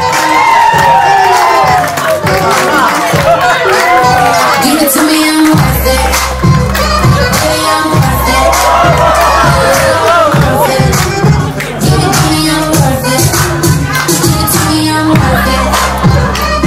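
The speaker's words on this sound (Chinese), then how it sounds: "掌声！" Wedding guests cheer and whoop as the newlyweds walk back in, a loud crowd roar that runs throughout, with upbeat party music with a heavy beat joining underneath partway through.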